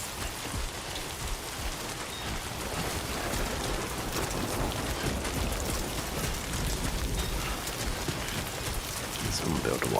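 Rain falls steadily in the video game Death Stranding 2, an unbroken broadband hiss of drops at even loudness throughout, with faint rumbling underneath and no speech over it.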